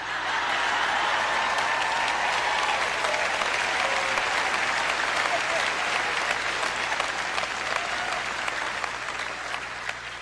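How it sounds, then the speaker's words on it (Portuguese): Audience applause fills the whole stretch, a dense, steady roar of many hands clapping at a sermon-style event, close and continuous without breaks. "Não tantos aplausos como eu gostaria."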